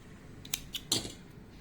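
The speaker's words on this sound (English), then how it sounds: "And then I will cut the rope." Scissors snip through crochet yarn in a few quick, crisp cuts, three short close clicks in quiet surroundings with no talking.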